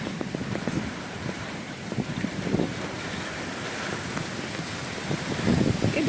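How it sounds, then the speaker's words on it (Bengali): Rain pours steadily while gusty wind roars and whooshes in uneven surges, a dense continuous wash of storm noise with no voices. "কি ঝড় আরম্ভ হয়েছে দেখেছো প্রচণ্ড ঝড়"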